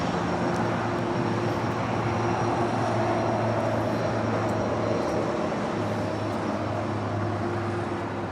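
A United airliner lands on runway 25 left at Los Angeles International Airport, a loud and continuous broadband engine roar with a steady hum underneath that holds level throughout.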